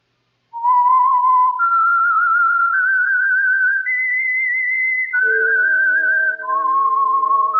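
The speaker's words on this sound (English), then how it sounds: "Whistle is your signal for the Whistler." A clear, close melodic whistle carrying a slow, eerie tune of sustained notes, loud and alone.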